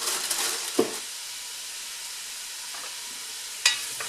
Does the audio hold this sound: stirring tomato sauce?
yes